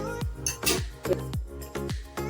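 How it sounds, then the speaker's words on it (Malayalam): A thick-bottomed aluminium pan is set on a gas stove, giving a series of close, ringing metallic knocks and clinks at a steady pace, about six in quick succession. "ഒരു പാത്രം വെച്ച് നല്ല അടിയട്ടിയുള്ള ഒരു അലുമിനിയം ചലവും വെച്ചിട്ടുണ്ട്"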